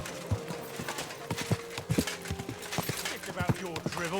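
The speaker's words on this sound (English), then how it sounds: "Easy, good horse." A horse walking in Kuttenberg, hooves clip-clopping in a steady uneven rhythm up close, with a voice speaking calmly over the hoofbeats.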